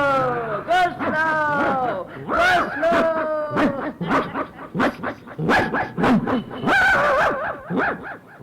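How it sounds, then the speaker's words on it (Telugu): A mother dog that has lost her puppies barks and yips repeatedly in uneven bursts, close by, mixed with whimpering and other voices. "ఇక్కడ పిల్లల్ని పోగొట్టుకున్న తల్లి కుక్క ఉంది"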